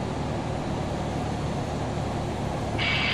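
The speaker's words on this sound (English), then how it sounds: "Starting engine 1." An Airbus A319 engine spools up in a flight simulator cockpit, a steady, dense broadband roar with a low rumble that holds level throughout, with a higher whine band joining near the end.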